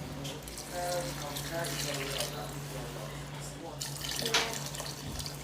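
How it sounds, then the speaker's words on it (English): Water runs from a tap into a can while cooking cast iron chili mac and cheese, a steady splashing and gurgling stream close by with a constant low hum underneath. "we will fill that same can with water"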